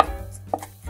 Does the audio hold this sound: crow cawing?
no